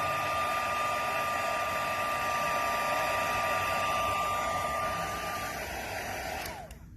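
An embossing heat tool blows a steady, loud whirring hiss with a constant whine while melting embossing powder, then cuts off abruptly at the end.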